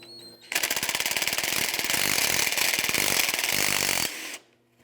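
A stuck radiator nut on a 1997-2001 Lexus ES 300 is turned with locking pliers, giving a loud, continuous rapid rattling and ratcheting that starts abruptly, runs about four seconds, then stops.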